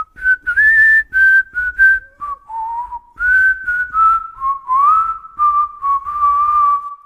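Someone whistles a lilting folk dance tune, clear and close, with quick phrases of short and held notes, no voices.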